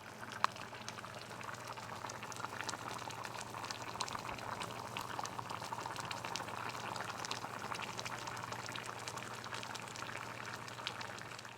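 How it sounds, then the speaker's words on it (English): Curry base of chicken tikka masala ingredients boiling steadily in a pot on a medium gas flame, a continuous bubbling simmer with a soft low hum underneath, close and even throughout with no talking. "Now we're going to let this boil for a good half an hour to 45 minutes until everything's soft and tender."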